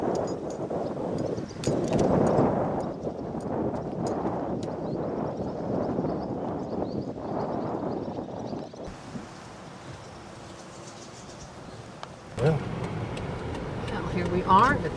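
Breezy wind blowing beside a pretty bayou in St. James Parish, Cajun Country, a steady broad rush with gusty swells throughout, rustling and buffeting under a voice talking.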